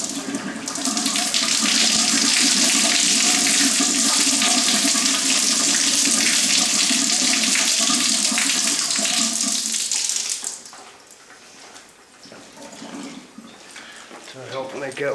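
Water rushing from the drain valve of a gas water heater, a loud steady gush that runs for about ten seconds before dropping to a faint trickle with intermittent clunks and handling noises.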